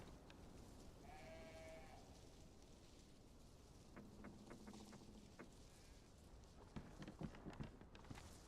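Sheep bleating in the survival video game DayZ, a few wavering bleats near the start followed by scattered footsteps and rustling movement over a steady ambient background.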